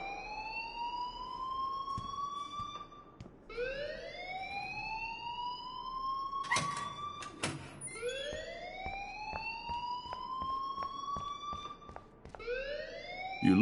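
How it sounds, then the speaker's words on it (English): A rising, wailing electronic alarm inside the video game Life is Strange, sweeping upward repeatedly in long cycles, loud and steady with sharp clicks between sweeps, no talking. "please turn off that alarm since that's your job"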